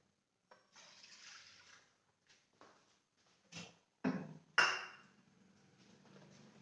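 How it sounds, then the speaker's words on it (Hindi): Water is poured from a bowl into a kadhai, with an irregular series of splashes and sloshes that build to louder pours near the middle, followed by softer trickling in a quiet kitchen. "कढ़ाई में यहाँ पे हम 2 कटोरी डाल देते हैं पानी।"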